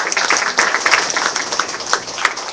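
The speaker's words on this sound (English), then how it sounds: "Let's give her a round of applause." A room of people at a public meeting applauds the Mayor Pro Tem, a close, busy patter of hand claps that holds steady for a couple of seconds.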